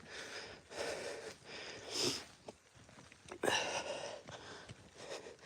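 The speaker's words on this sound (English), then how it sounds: "They don't see you sniffing." A Staffy Bull Terrier sniffs in short bursts of snuffling and snorting close to the microphone during an outdoor stroll, with a few quiet gaps between sniffs.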